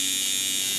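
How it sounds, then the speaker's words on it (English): A steady electric motor whirs with an even high-pitched buzz, running smoothly at a constant speed, close and fairly quiet, with no talking. "You can hear the machine run. That's a normal sound that your machine should run at."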